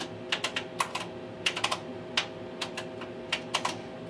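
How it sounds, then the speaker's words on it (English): Keys tapped on a Tektronix 4051 computer keyboard, a quiet, close run of separate clicks in small irregular bursts with short pauses, no voices. "Let's clear out our program, type in an example."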